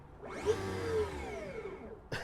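The electric motor of a 2020 Factory Five MkIV Cobra replica, fitted with a regular five-speed gearbox, whines up in pitch and then winds down as it free-revs with the clutch in, heard briefly and fairly faint.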